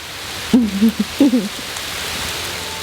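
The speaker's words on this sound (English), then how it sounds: "It's been a whole lot of sleet this morning, but looks like we're finally starting to get some snow." Sleet and rain falling in a winter storm make a steady, even hiss, with two short hooting calls rising briefly above it partway through.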